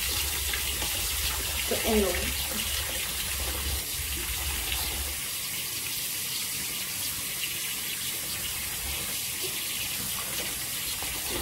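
Tap water runs steadily into a laundry sink, a constant broad rushing hiss that continues throughout, while a person speaks briefly near the start.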